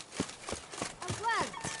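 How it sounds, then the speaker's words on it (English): A horse gallops in The Witcher 3: Blood and Wine, with a steady run of soft hoofbeats and a brief whinny-like cry partway through, set under low game ambience. "Even a horse drops if you ride it at a constant gallop."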